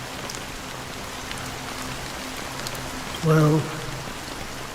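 Steady rain falls throughout a video game cutscene, a dense even hiss that stays constant from start to end, with a short burst of a voice speaking briefly near the end over it.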